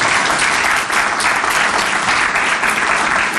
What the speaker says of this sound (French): je prends les applaudissements